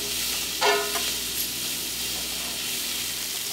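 Onions with black pepper frying in a pan give a steady soft sizzle, with one brief louder clink or stir near the start and no talking.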